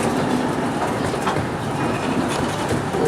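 Seaside Railroad ride train at Six Flags Discovery Kingdom rolling steadily, with a continuous rumble and faint clickety-clack of wheels heard from on board, loud and unbroken with no talking.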